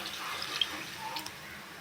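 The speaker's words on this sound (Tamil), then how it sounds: "அந்த தண்ணியை இதில் சேர்த்துறேன்." Measured water poured into a pot of vegetable sprouts biryani, a soft, steady trickle and splash at moderate distance with a couple of faint drips.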